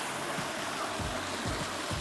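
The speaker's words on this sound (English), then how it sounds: "So the water feature we have here is that one over there, where the water is falling from." Water spills from a garden gazebo water feature, a continuous rushing splash with a few soft low thumps.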